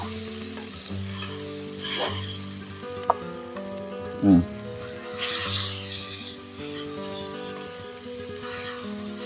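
Milkfish cooks in hot oil in a pan with a steady, soft sizzling hiss and brief stirring scrapes, while someone talks over it.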